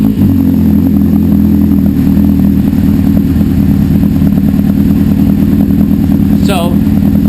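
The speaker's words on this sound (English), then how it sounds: "just to show you, the bike will run" A carbureted 2000 Suzuki GSXR 600 motorcycle with internal engine damage idles steadily and loudly up close, a constant low rumble with a faint ticking clatter and no revving.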